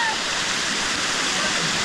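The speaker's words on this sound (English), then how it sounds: "Wow! Amazing waterfall ever." A waterfall near a village roars steadily and close by, a dense, unbroken rush of falling water that fills the whole stretch without pause.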